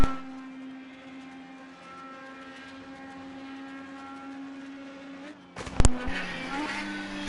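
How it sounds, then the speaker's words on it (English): An open-wheel race car in a racing simulation at Road America drones at steady engine pitch, then rolls off the throttle, followed by a sharp burst of noise and a renewed rising engine tone. "listen to the way he shifted through the gears, modulated the throttle, rolled out of the throttle, taps the brake"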